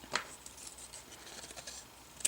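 Two quick, crisp snips of scissors cutting paper card, one at the start and one near the end, with soft rustling of paper in between in a quiet room.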